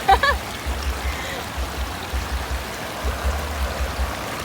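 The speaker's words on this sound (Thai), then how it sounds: "ตรงนี้มันก็มีน้ำตกนะคะ" A small waterfall at a rafting spot in Nakhon Nayok, Thailand, giving a steady close rushing and splashing of water with a low rumbling undertone, beginning with a short bright chirp-like sound.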